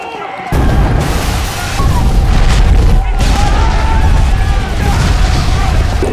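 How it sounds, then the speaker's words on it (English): Loud, rumbling explosions roar one after another in a sustained, heavy blast of noise with deep booming low end. "The explosions rocked the office."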